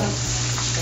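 Galunggong fish frying in a pan, a dense, steady, loud sizzle with no breaks.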